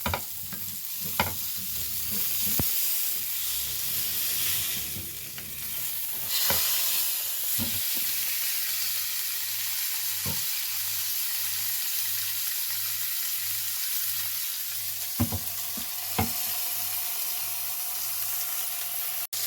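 Fish fries in a pan with a steady, close hiss and sizzle throughout, broken by occasional sharp clinks and taps as the pieces are turned; no voices.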